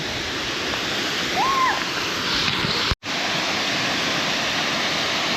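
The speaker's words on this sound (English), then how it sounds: "Pretty cool little waterfall." Young River Falls, a small waterfall by a chill river, roars as a steady close broadband rush that fills the whole span, with a faint high whistle partway through and a brief dropout near the three-second mark.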